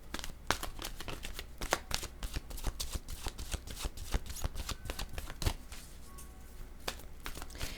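Oracle cards shuffled by hand in a rapid, crisp riffling patter with sharp snaps, close and steady for several seconds, easing off near the end; no talking.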